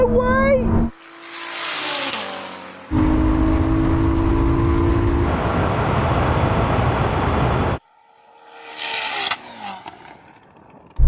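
A Nissan and a Ferrari accelerate hard in a drag race, engines revving up through gear changes with rising whines and loud roaring bursts, then dropping away and surging again, with voices talking over parts of the run.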